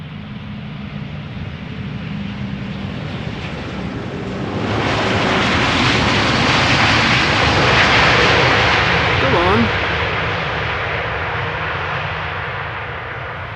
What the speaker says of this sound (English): And the only A340 that still flies to Amsterdam on a regular basis.